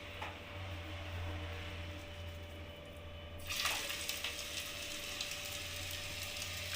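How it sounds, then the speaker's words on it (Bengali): Prawn pakoras frying in hot white oil in a wok, faint simmer that bursts into a louder, steady crackling sizzle as the battered pieces drop in. "এবার আমি একে একে পকোড়াগুলো ছেড়ে দেবো।"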